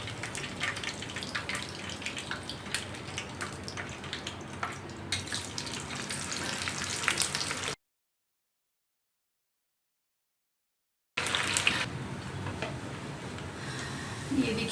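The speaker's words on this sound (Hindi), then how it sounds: "अब मैं दूसरा बैच इसमें फ्राई कर लूँगी।" A second batch of mutton pieces for moti pulao fries in a pan, giving a dense, steady sizzling hiss with small crackles that cuts to silence midway and then resumes.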